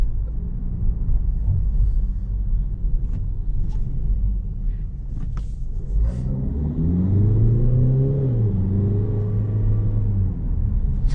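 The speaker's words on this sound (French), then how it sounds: "On va voir si on a l'occasion de faire une petite accélération quand même." A Peugeot 3008 GT Line in sport mode pulls away with a rising engine note that climbs through a strong rev, heard from inside the car after a stretch of low cabin rumble.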